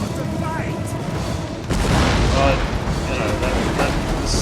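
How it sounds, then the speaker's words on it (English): Heavy siege fire in a battle game, field artillery and a giant ballista pounding charging cavalry, builds into a loud, dense rumble of booms and impacts from about the halfway point, with a voice talking over the din. "This cavalry is just destroyed by the giant ballista and the field artillery"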